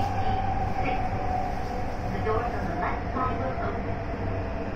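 A Tokyu Den-en-toshi Line subway train rumbles steadily, a dense low roar with faint metallic squeals, as it runs toward the underground Yoga Station in Tokyo.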